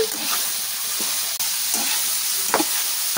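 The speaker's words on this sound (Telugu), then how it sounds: "బీరకాయ ముక్కలు, అవి కూడా దాంట్లో పోసుకోవాలి. ఇది మొత్తం కలుపుకోవాలి" Pieces of ridge gourd fry in hot oil with a continuous sizzle as a spoon stirs them, giving a few scraping strokes and one sharp clank, close and alone.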